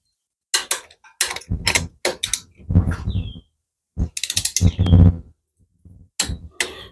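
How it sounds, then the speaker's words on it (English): A ratcheting torque wrench tightens Harley-Davidson cylinder head bolts with a half-inch 12-point socket, loud close clicking strokes in short separated bursts with silent gaps between. "Let's do our first torque setting here."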